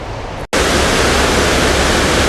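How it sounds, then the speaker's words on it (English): Steady, loud roar of a mountain waterfall in North Carolina after a brief moment of silence, a dense continuous wash with no voices. "What a beautiful waterfall."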